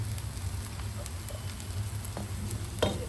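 Jowar dosa batter made from sorghum flour cooks on a hot pan with a steady soft sizzle, punctuated by a few light clinks and scrapes nearby.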